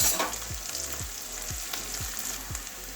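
Onions sizzle steadily in a pan for a Bengali gourd curry while a spatula stirs in even strokes about twice a second, close and clear, no voices.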